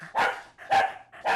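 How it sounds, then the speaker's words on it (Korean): A dog barks loudly and repeatedly in an agitated, nonstop way during a home visit by a dog trainer, three close, sharp barks in quick succession with short gaps. "거의 뭐 기계처럼 짖는데요?"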